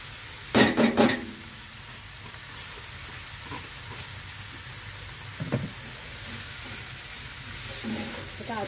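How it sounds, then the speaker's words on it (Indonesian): Shrimp and bamboo shoots stir-fried in a pan: a steady close sizzle with a burst of scraping stirs near the start, a brief clink midway and more stirring at the end. "Kita aduk sampai merata."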